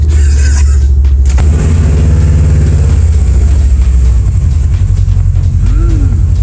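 A loud Subaru car engine roars steadily while driving, with deep rumbling low tones and a short revving rise near the end.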